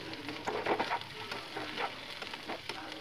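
Onions and mixed vegetables for vegetable chop frying in a pan, a soft continuous sizzle with irregular bursts of stirring and crackle, fairly quiet and close.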